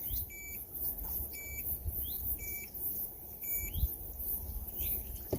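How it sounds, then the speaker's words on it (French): Power-on beeps from a Nanova D1 portable dishwasher: short, thin, high-pitched bleeps repeating about once a second, fairly faint over a low background rumble. "Vous entendez le petit bip?"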